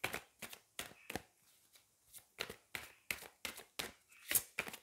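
Tarot cards are shuffled and drawn in a series of sharp papery riffles and slaps, uneven bursts with short pauses between, close and quiet with no talking.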